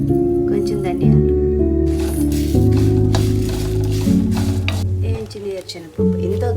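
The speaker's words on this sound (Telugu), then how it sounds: "సిమ్లో పెట్టి ఫ్రై చేయాలి, లేకపోతే త్వరగా మాడిపోద్ది" Whole spices such as coriander seeds fry gently in a pan on low heat, giving a steady soft sizzle with occasional stirring scrapes, under background music with voice-like tones throughout.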